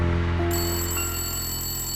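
A telephone rings with a sustained electronic bell tone, steady and fairly close, with no talking.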